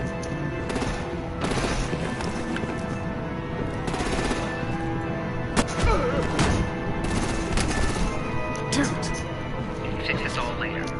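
Sustained gunfire in Batman: The Enemy Within, rapid bursts of shots and automatic fire rattling throughout at steady loudness, with voices talking over it.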